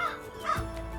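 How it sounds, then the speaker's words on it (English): A crow gives a couple of hoarse caws at a wetland nature center, moderately distant and brief against quiet outdoor ambience. "Or maybe crows cawing in the distance?"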